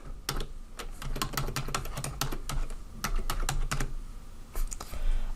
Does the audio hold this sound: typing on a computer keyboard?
yes